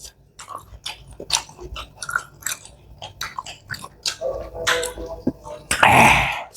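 Raw fish is bitten and chewed up close in an eating challenge, with wet, irregular munching and crunching sounds, a throat-clearing noise near the end, and voices talking in between.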